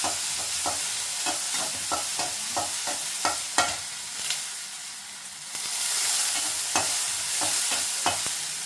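Chana dal and turmeric are sautéed in a pan: a spoon scrapes and taps rhythmically over a soft sizzle, then a louder hissing surge swells before the stirring resumes, all close and without speech.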